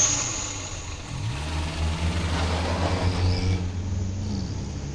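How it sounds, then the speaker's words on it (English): A car's engine hums near and loud, then rises in pitch as it pulls away, the steady motor sound carrying on without any talk. "Let's get inside that car before it leaves."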